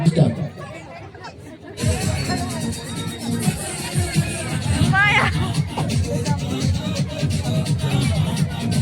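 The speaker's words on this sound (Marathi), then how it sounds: "बाहेर प्रचंड गर्दी झालेली आहे" Loud crowd chatter fills an indoor haldi-kunku gathering: dense overlapping voices and babble after a brief near-silent opening, with scattered bangs and shuffling among the steady hubbub.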